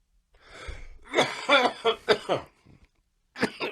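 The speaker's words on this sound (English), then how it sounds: "I'm just gonna cut in us coughing during times when we have dead air" A few short, breathy coughs in quick succession, close up, during a podcast recording, followed by a pause and one more cough burst.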